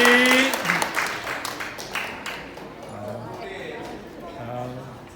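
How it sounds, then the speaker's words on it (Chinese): Applause for children after a Taiwanese-language Bible reading at a church Sunday school event, loudest at the start and fading quickly, with voices talking over the clapping. "掌声鼓励"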